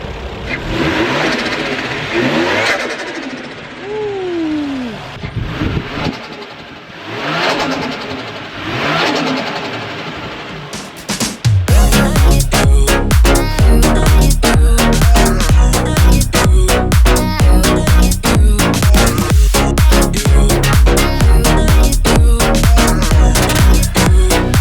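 Toyota Crown Athlete V JZS171 engine, mostly stock, heard first in a few swelling revs with fluttery release sounds, then a loud, continuous pulsing engine note that runs steadily to the end.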